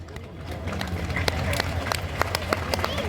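Scattered sharp claps ring out in irregular bursts from an audience at a live religious gathering, heard behind continuous amplified speech over a diffuse crowd murmur.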